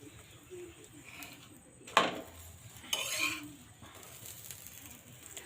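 Lachha paratha frying with a little oil on a tawa, faint low sizzle with two sharp metallic scrapes of a spatula, quiet and close, without clear talk.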